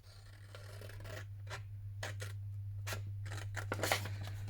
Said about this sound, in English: So I'm going to cut out the tag